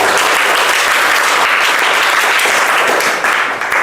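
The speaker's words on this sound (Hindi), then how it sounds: "लेकिन सबसे पहले एक जोरदार ताली होना चाहिए" A class of children claps loudly and steadily for several seconds, a dense close burst of applause with no talking.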